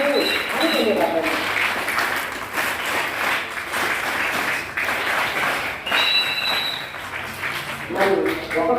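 An audience at a 15 August celebration claps in a sustained, even wash of applause for about nine seconds, with voices audible over it throughout.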